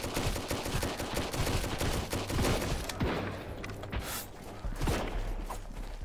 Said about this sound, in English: Hey, shooting me from the back.